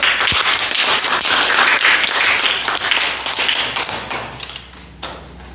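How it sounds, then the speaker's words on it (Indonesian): Classroom applause from students during a religious education lesson, a dense wash of clapping that is loud at first, then thins out and fades over several seconds. "Oke, tepuk tangan dulu."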